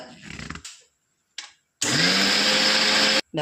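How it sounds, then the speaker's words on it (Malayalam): A kitchen blender grinds coconut, starting with a couple of short bursts and then running as a loud, steady high-pitched whir for over a second before cutting off abruptly. "ഒരു നാളികേരട്ടുണ്ട്, അത് നല്ലപോലെ അരച്ചെടുക്കുക"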